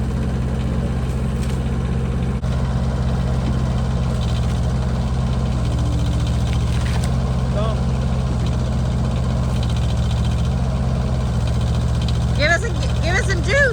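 A Chinese mini excavator's engine idles steadily nearby, a constant low mechanical drone with faint rattles, and a few brief sharp sounds near the end.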